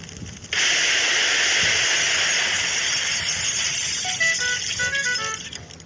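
Oil poured into a hot pan for paratha breaks into a sudden loud sizzle after a brief quiet start, then settles into a steady, bright hiss that continues to the end.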